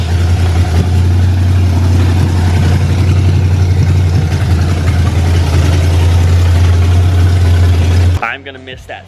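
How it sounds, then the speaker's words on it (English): A 1968 Mustang Fastback V8 with open headers idles loudly with a deep, steady, throbbing rumble, then cuts off abruptly near the end. "The final startup of Beverly, open headers."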